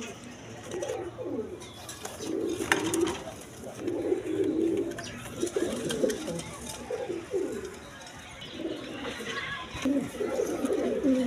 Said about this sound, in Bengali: এইখানে আরেক পেয়ার জার্মান বিউটি কবুতর আছে